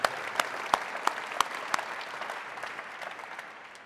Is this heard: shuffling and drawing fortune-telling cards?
no